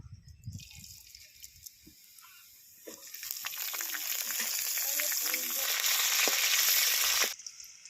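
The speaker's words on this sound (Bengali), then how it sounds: "তেলের মধ্যে কালো জিরা আর কাঁচা লঙ্কা ফোড়ন দিয়ে দেবো" A tempering of black cumin and green chili hits hot mustard oil with a sudden loud sizzle that swells and crackles for several seconds before cutting off, after a few quiet kitchen clinks.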